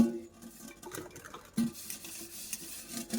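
Pots, pans and dishes are scrubbed clean by hand, giving soft, sparse metallic clinks and knocks with quiet rubbing between them, close and fairly faint, with no talking.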